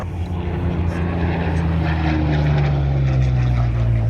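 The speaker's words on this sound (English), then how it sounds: "The aircraft is" A P-40 propeller fighter at the Brisbane airshow passes with a steady, loud engine drone that builds slightly and holds throughout, continuous and close.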